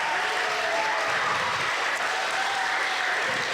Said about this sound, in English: And students, let's clap and welcome all of our new students to our school.